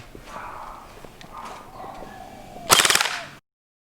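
An AK-47-style BB gun rated above 700 FPS fires a short, rapid automatic burst of sharp snapping shots near the end, loud and close after a stretch of quiet background.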